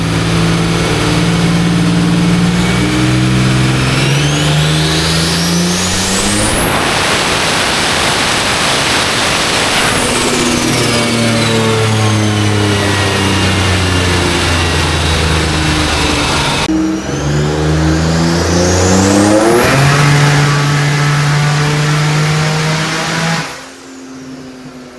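A Buick Grand National with a PTC 9.5 inch non-lockup torque converter warms up, its engine rising and falling through several long revs between idle, loud and close, with no talking.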